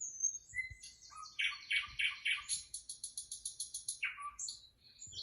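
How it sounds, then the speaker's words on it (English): Small birds chirp and tweet from a television set, with quick bright calls and a rapid repeated trill, fairly clear and close with a faint low room murmur beneath. "Look at them birdies."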